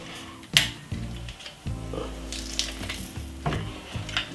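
A garlic clove crushed in a kitchen, giving a sharp crunch followed by softer pressing and scraping sounds, close and fairly loud, with kitchen clatter around it.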